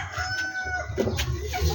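A backyard rooster crows once, fairly close, under a faint background of clucking hens and farmyard ambience.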